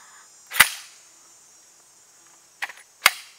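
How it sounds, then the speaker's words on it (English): A rifle fires a sharp, close shot, then there is a brief metallic clatter and a second loud crack about two and a half seconds later. "put my finger down the trigger. What an awesome rifle to shoot."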